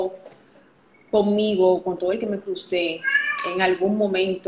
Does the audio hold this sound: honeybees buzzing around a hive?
no